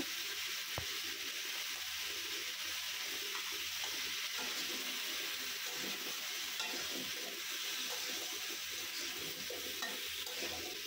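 Pumpkin with cumin, salt, turmeric and slit green chillies fries in a pan while being stirred, a steady, fairly quiet hiss with soft scraping and bubbling textures running continuously.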